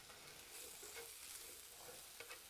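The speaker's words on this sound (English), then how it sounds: "You're basically doing like a stir fry now." Rice noodles and snow peas stir-frying in a pan, a faint steady sizzle with soft scraping and tossing clicks of the utensil, close and quiet with no talking.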